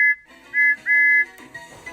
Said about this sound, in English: Something's funny about my whistle!